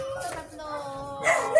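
A small dog barks and yips a few times in short bursts amid a busy outdoor stall selling secondhand ukay-ukay clothes, with people talking over it.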